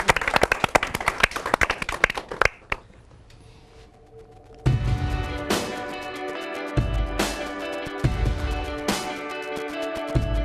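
A church audience claps for young dancers, a burst of dense applause that fades out, then music with drums and singing begins and carries on.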